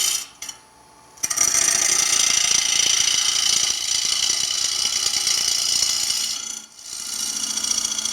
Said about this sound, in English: we have to do what's called a pull cut